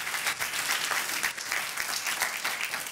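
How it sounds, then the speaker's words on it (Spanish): A church congregation bursts into dense, continuous applause, many hands clapping together at steady loudness for a few seconds. "Denle un aplauso al Rey."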